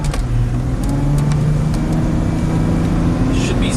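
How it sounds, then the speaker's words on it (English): A Volvo XC90 engine with a low-boost and start-stall problem pulls under boost, giving a steady, loud, close drone with a low throbbing hum throughout. "let's get it under some boost here"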